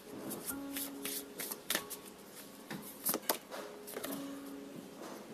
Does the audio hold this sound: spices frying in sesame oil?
no